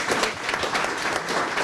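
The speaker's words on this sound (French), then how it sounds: "Si vous pouvez applaudir Agnès qui doit nous quitter un petit peu avant." Audience at a conference on responsible leadership applauding a departing guest, steady dense clapping throughout that stays even in level from start to finish.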